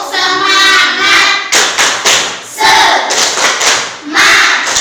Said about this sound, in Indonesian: kita tepuk semangat dulu ya. 1, 2, 3. Tepuk semangat.